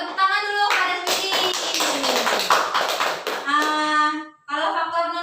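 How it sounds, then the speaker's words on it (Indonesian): Grade 5 classroom of children clapping hands together in short, busy bursts, mixed with a teacher's and pupils' voices talking over and around the claps. "Kita tepuk tangan dulu pada Widi."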